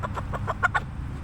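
Thirteen-week-old chicks cluck in a quick run of about six short, soft notes, close by with a low background hum.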